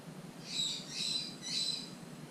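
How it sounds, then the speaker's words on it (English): A pet bird squawks indoors three times in a steady rhythm, shrill, fairly faint calls over quiet room noise. "you can tell my bird is happy"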